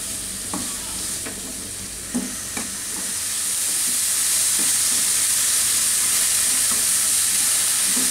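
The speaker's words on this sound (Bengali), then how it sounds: "তো এটা দিয়ে একটু ভেজে নিই ওইটাকে" Spices fry in a pan with a steady, close sizzling hiss that swells and holds after a few brief stirring clinks early on.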